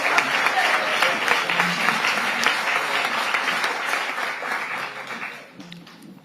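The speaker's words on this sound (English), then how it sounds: "Come on, everyone. Let's get up and applaud Raquel and the 5 bosses on the day." Sustained audience applause in a city commission meeting chamber, a steady dense patter of clapping that tapers off near the end, with faint talk underneath.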